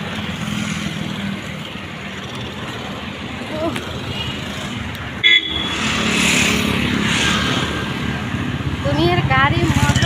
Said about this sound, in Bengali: দুনিয়ার গাড়ি মোটর